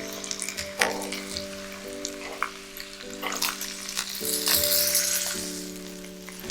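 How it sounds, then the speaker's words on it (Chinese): Beef steak laid on a hot barbecue grill at about 450–500°F, giving a steady broadband sizzle with crackles and pops, close and continuous, over a low tonal hum in the background. "上去之后，立刻能听到滋滋声才好。"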